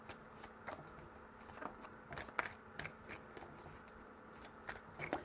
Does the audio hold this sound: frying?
no